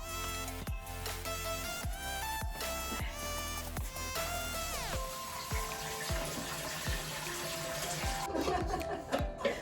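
Rice rinsed in water in a home kitchen: a steady splashing, running-water wash with sloshing and clinks, close and fairly loud, with a brief pause of hard knocks early on and no talk.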